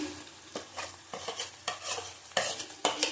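Minced and crushed garlic with chopped ginger frying in a pan for an egg chicken curry, with a steady sizzle broken by several sharp scraping stirs of a spatula, close and moderately loud, no talking.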